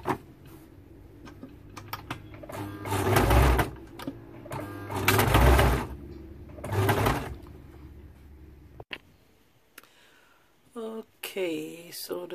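A home sewing machine stitching a casual men's shirt, with several bursts of rapid whirring stitching separated by pauses and handling noises, and a voice speaking briefly near the end.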